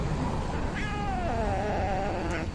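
An angry cat lets out a drawn-out, wavering growling yowl with rising and falling pitch, close and continuous against a steady background hum.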